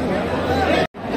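A dense crowd babbles at the Lalbaugcha Raja darshan in Mumbai, a close and loud wash of overlapping voices that cuts out abruptly for a moment near the end before resuming.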